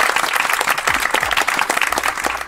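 Audience applause for young contestants at a Marvel fan quiz event in Thessaloniki, lively close claps from a small crowd running throughout the brief moment.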